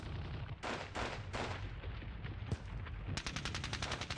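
Anti-tank rifle fire and other weapons in a World War II battle game at Ponyri, heard as a steady stream of loud, overlapping shots with rapid bursts of automatic fire near the end.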